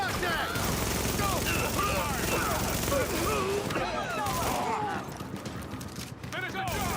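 Video game gunfire from The Division crackles in dense bursts and fusillades, overlapping with shouted voices and chirpy game effects, with the shooting thinning toward the end.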